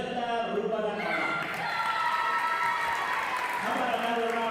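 A crowd at a high school all-star volleyball game keeps up steady applause, a dense wash of clapping heard under an announcer's amplified voice.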